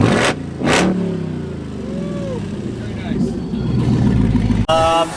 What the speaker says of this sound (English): he also has an electronic valve that dumps the exhaust right out the motor